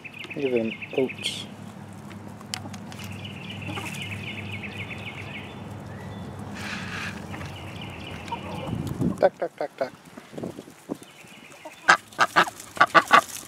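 Ducks quacking and honking near a canoe while someone hands out oats, a steady stretch of calls and noise followed by sharper separate quacks toward the end.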